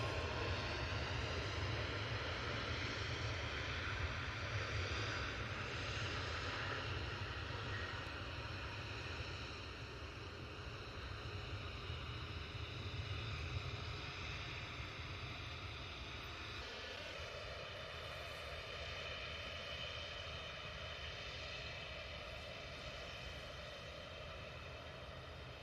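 A Ryanair Boeing 737 Max 8 takes off from runway 05 left with a distant, sustained jet roar that eases slightly in the later part of the clip.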